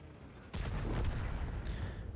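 Tank cannon fire in World of Tanks, a single loud boom with a long rumbling tail heard alone, close and heavy.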